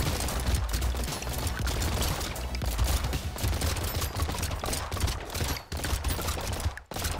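Dragon gun in the game Brotato firing in a relentless rapid stream, a dense continuous barrage of overlapping shots that stays loud and unbroken, briefly dropping out near the end.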